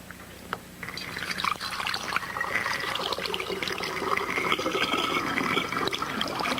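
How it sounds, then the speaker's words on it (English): Water filling a plastic or glass bottle, a steady bright pouring and gurgling stream that starts about a second in and runs continuously, close and fairly quiet, with no talking. "let's try water? filling with water to see if it changes any sound in it."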